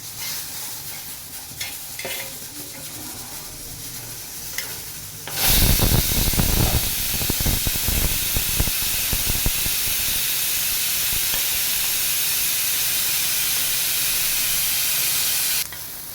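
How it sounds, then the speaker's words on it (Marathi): A half tomato is set to roast directly on a gas flame; after a quiet stretch, a sudden loud hissing, crackling sizzle erupts and holds steady for about ten seconds, then cuts off abruptly. No voices. "अर्धा टमाटा मी गॅसवर भाजायला टाकत आहे"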